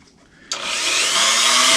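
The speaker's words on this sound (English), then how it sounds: "I'm going to try to straighten that flat out a little bit with my Dremel" A Dremel rotary tool switches on with a sudden loud whine and grinds steadily against a steel pinion shaft to flatten it, a bright continuous hiss-like buzz that holds near and loud after a quiet start.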